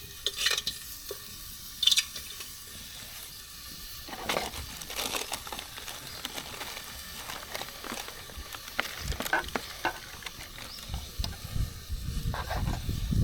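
Chunks of vegetarian sausage sizzling and crackling in a pan, with steady frying hiss and occasional louder pops and clatters of stirring, no talking.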